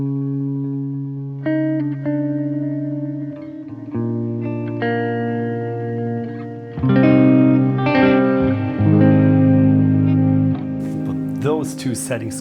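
Ambient electric guitar through a pedalboard on a Terra Echo delay setting: layered, sustained notes and chords swell with repeating echoes and slight grit, building louder and denser toward the end.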